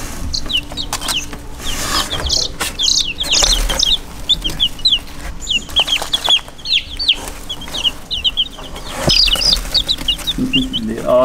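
Young chickens inside a cardboard box peep and cluck continuously, a busy chorus of small high chirps close by over low rustling and shuffling.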